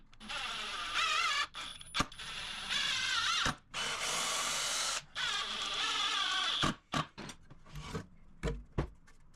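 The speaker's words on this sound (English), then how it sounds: "now we can get these 2 boards screwed together" Power drill driving 2.5-inch wood screws through a 2x6 and 2x4 board: repeated loud whirring bursts of several seconds each, broken by short pauses and sharp clicks as screws seat, ending in quick stop-start pulses.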